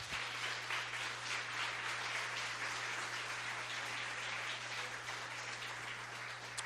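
Church congregation applauding during a sermon on prayer, a continuous even patter of clapping at low level over a steady electrical hum.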